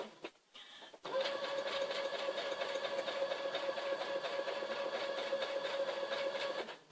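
Sewing machine running steadily while stitching a feather-filled pillow, a close, continuous mechanical whir with a strong steady hum that starts after a brief pause and holds at constant speed.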